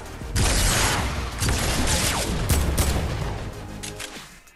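Gunshots fire in the Fortnite Battle Royale game, several loud close cracks in quick irregular succession over a dense battle din. The volley starts abruptly and then tapers off, and no one speaks.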